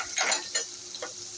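Turmeric powder, onion paste and ground ginger-onion hit a hot pan, giving a few short bursts of sizzling and stirring scrapes separated by quieter gaps, close by with no talking.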